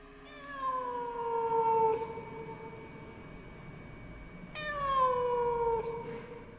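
A cat in a house at night lets out two drawn-out, falling meows a few seconds apart. Both are clear and fairly close, with no voices in between.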